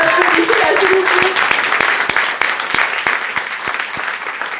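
A crowd applauds steadily, dense clapping filling the room with a few louder nearby claps, a voice briefly audible at the start.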